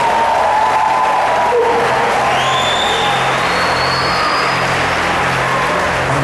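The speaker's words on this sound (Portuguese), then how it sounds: "Aplaudam o Senhor" A church congregation applauds with a steady, dense wash of clapping that fills the hall. A few whoops and rising cheers ride above the roar.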